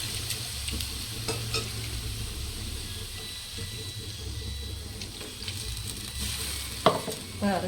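Ground spice paste with pepper sizzling in a pan for fish curry, with constant stirring and light scraping over a low bubbling hiss, and a sharp knock against the pan near the end; no one speaks.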